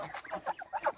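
A rooster and chickens in a backyard poultry yard cluck in a quick burst of short, overlapping calls, near and fairly loud with no talk.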